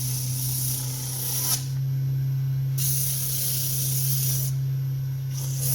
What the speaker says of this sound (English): So now we're up to a 150. Again, let the sandpaper do the work.